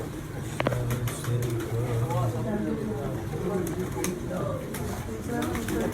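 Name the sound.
pigeons cooing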